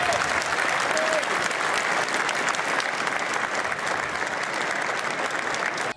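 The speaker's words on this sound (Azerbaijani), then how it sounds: "Təsadüfi deyil ki, stenddə modeli uzun sürən alqışlarla salamladılar" Long, dense applause from a crowd greeting a Lamborghini model at an exhibition stand, continuous and loud for the whole stretch with a few murmuring voices.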